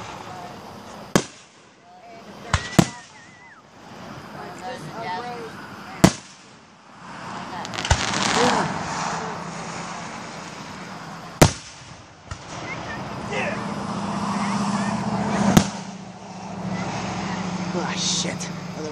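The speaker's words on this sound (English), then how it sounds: "I want the fireworks in here now." Sharp fireworks bangs go off one at a time at irregular intervals over a rumble of traffic, with some talk mixed in.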